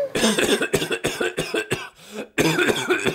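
Harsh, repeated coughing fits close by, several hacking bursts in quick succession with a brief pause before another round.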